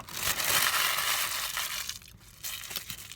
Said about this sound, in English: So that was the crunchy taco.